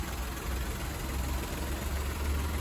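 A 2013 Opel Corsa 1-litre engine idles with a steady low rumble, constant and unchanging, heard close with no voices over it.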